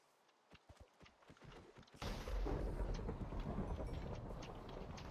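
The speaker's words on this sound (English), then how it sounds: "Lightning kind of scared me a little bit, not gonna lie." In Minecraft, a few faint clopping footsteps give way after two seconds to a sudden loud thunderclap that rolls on as a deep, sustained rumble.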